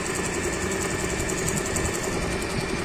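An Usha Marvela sewing machine runs a regular straight stitch, a steady close mechanical whir and hum that continues without breaks.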